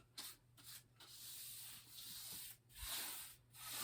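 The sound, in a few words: paintbrush strokes on canvas, acrylic painting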